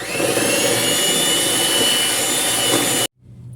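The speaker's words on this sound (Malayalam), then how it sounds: "ഇനി ഇതും കൂടി ഇട്ടിട്ട് ഒന്ന് ബീറ്റെടുക്കാം കേട്ടോ." An electric hand mixer beats sugar into cake batter for a birthday cake. The steady, loud whirring hum runs continuously, then cuts off abruptly near the end.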